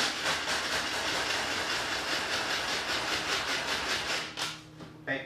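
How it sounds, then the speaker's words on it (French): Dry toast, crackers and croutons chopped into breadcrumbs: a loud, steady, rapidly pulsing rattle and grind runs for about four seconds, then cuts out, leaving a few brief knocks and clatters near the end. "tu prends une toast sec, tu prends des craquelins, tu prends des croûtons, tout simplement comme ça, puis tu viens les hacher"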